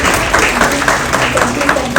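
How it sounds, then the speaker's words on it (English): An award-ceremony audience applauds in a brief, dense patter of clapping that holds steady for two seconds with no voices on top. "Bigger round of applause for Priya."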